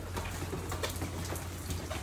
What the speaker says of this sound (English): Right now, the rain is so bad outside.